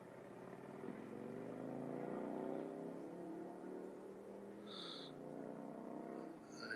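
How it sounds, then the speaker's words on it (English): From a hilltop in Martinez, California at sunset, a motorcycle engine drones faintly in the distance, its pitch rising and falling as it rides by. "There's somebody on their motorcycle."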